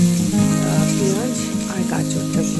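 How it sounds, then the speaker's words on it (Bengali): Vegetables, starting with carrots, frying in a kadai, giving a steady close sizzle throughout with some stirring noise, under a background of voice-like tones. "ভেজে নিচ্ছি"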